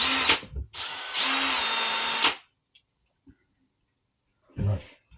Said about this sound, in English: that's a Marcrist, a diamond drill bit from Wicks. 28mm, went through the quartz like butter